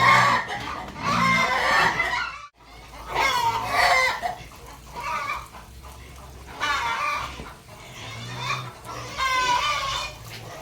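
Several laying hens cluck and squawk continuously nearby, overlapping calls rising and falling in a busy farmyard chorus.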